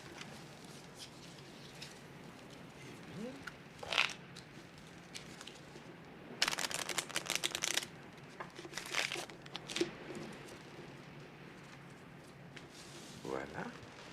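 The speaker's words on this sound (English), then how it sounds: "You can shuffle the cards, Mr. Poirot." Playing cards shuffled and handled at a bridge table, a few short crisp rustling and riffling bursts, the longest a dense flutter midway, over a quiet room with faint background talk.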